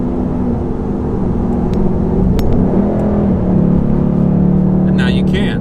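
Stock exhaust on a Ford S550 Mustang, a steady loud engine drone with a mild swell in revs over several seconds.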